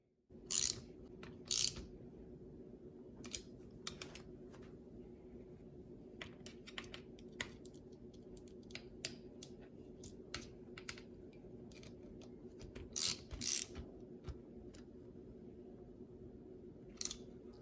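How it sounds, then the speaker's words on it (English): A gear wrench tightens locking nuts on a Losi 5ive B RC car, producing faint, sparse ratcheting clicks in short bursts against a quiet background. "you can either use your turnbuckle wrench, which would be the smaller side, to tighten your locking nuts, or you can use a 8mm gear wrench or socket"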